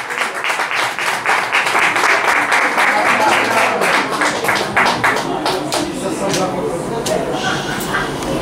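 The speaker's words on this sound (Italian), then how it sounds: "Applausi!" An audience applauds after a singer is announced at an Italian song contest, dense steady clapping close and loud for the whole stretch, fading slightly toward the end.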